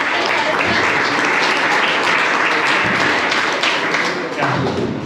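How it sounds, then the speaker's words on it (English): A large audience at an engineering induction program gives a loud, dense, continuous round of applause that fills the hall at steady volume, with scattered thumps mixed in and easing slightly near the end. "With a big round of applause"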